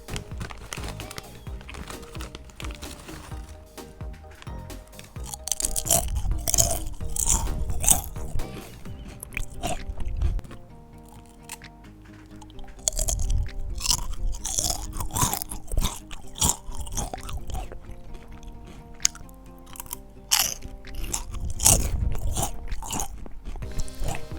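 Lay's potato chips, several eaten at once, crunch and get chewed up close in bursts of crisp bites separated by quieter pauses, with no talking.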